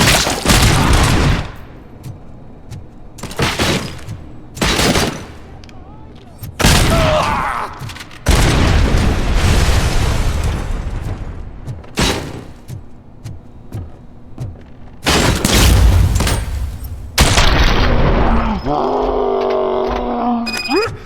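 Heavy gunfire fills a RoboCop: Rogue City game cutscene: loud, close bursts of shots and booms in several separate volleys with short gaps between them. Voices shout over the action.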